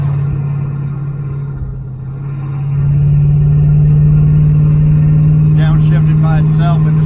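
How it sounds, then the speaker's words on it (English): A 1978 Dodge Aspen R/T V8 runs at a steady loud drone that dips and then rises as the transmission shifts down into second gear, with the low engine rumble continuing and faint voices near the end. "It's kind of downshifting on its own into second."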